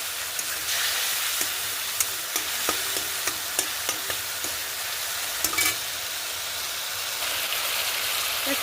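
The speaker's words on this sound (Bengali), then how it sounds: "এবার এগুলো ভালোভাবে কষিয়ে নেব।" Spiced vegetables stir-fried with turmeric and salt water in a pan, giving a steady loud sizzle throughout with a few sharp clicks of a spatula scraping and stirring.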